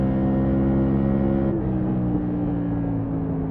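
A modified race car in a racing video game drones at a steady, loud engine pitch, then the tone dips and shifts partway through as it lifts and changes speed.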